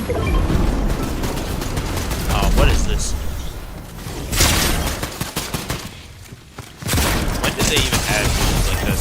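Rapid video game gunfire in Fortnite rattles in dense bursts with a few heavier booms, broken by short pauses, while a voice talks over the shooting.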